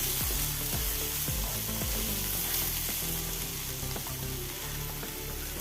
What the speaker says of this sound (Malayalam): ഇനി സേവേജ് ആയിരുന്നു ഇത് ചേർത്ത് കൊടുക്കാം പിന്നെ ഉള്ളിത്തണ്ട് ചേർത്ത് കൊടുക്കാം നല്ലപോലെ ഒന്ന് ഇളക്കി കൊടുക്കാം